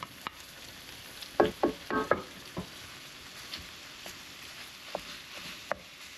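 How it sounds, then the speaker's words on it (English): Ground chuck and ground pork cook in a pan for lettuce wraps, a soft sizzle under scattered scraping stir strokes, with a short cluster of louder utensil clacks near the middle. "get those cooked and mixed up in the pan"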